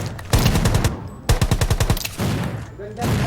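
Shotgun blasts in a mobile shooter game, several loud close shots in two quick bursts with a short gap between, each with a sharp crack and a brief ringing tail.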